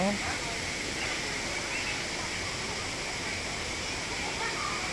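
Wang Phaya Yen waterfall roars as a steady, dense rush of falling water, filling the whole scene at an even loudness with no pauses.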